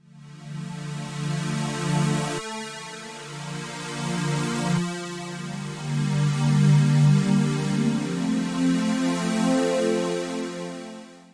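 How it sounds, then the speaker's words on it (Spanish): A musical sample in Ableton Live 12's Texture warp mode, pitched down 12 semitones, plays as a deep, sustained tonal texture with strong low harmonics, shifting in sections around 2.4 and 4.8 seconds, steady and fairly loud with no talk. "lo que voy a hacer es bajarle 12 semitonos aquí en el pitch"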